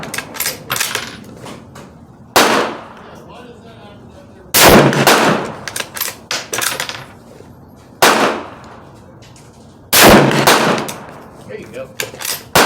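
Four loud, sharp rifle shots from a Savage Axis II XP hunting rifle fired at targets 100 yards away, spaced a couple of seconds apart with ringing decay, and a brief spoken remark between them.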